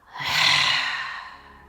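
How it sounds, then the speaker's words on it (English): A single slow exhale through the mouth during a beginner yin-inspired yoga flow: a soft, breathy whoosh that swells and then fades over about two seconds, close and alone, with no talking. "Exhale through the mouth."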